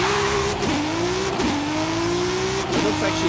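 An all-wheel-drive Audi RS 5 with a swapped 3-liter Toyota engine accelerating hard in Forza Horizon 5, a loud close engine roar climbing through the revs with quick dips at two gear shifts.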